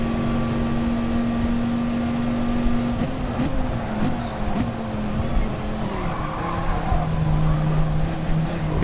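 A race car in the GT Sport video game, during an FIA Nations exhibition race, accelerates out of a corner with upshifts: a loud, steady engine drone whose pitch dips and climbs with each gear change, with faint tyre noise underneath.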